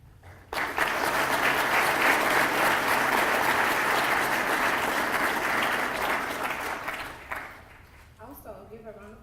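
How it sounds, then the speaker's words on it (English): Sustained audience applause at an Army service celebration ceremony rises sharply, holds as a dense, loud wash of clapping for about seven seconds, then thins and fades out near the end. "Please join me in a round of applause"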